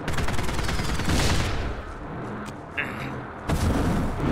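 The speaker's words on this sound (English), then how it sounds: "Let's use the shotgun." Shotgun blasts in POSTAL Redux, several loud, booming shots with dense gunfire crowding the clip, heaviest early and again near the end.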